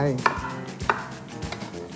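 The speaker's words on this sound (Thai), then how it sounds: "หั่นดอกกระหล่ำเตรียมเอาไว้" Three sharp knife chops through cauliflower land on a cutting board at a steady pace, close up and crisp, with quiet room noise between them.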